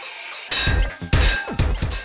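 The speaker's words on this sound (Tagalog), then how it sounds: "Basta't may takip ng kaldero, palanggana, baso na may barya, takip ng kaserola na may matching tinidor pa, ready na ang kanilang banda ng pamilya." A family celebrating New Year in Santolan, Pasig bang pot lids, basins, casserole lids with forks and glasses holding coins, making several loud close crashing clangs in an uneven rhythm with no voices.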